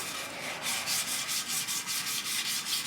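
Dry hand sanding of BMW paint with 1000 grit sandpaper, no machine, in a steady forward motion: a close, even series of soft rasping strokes, about one every quarter second.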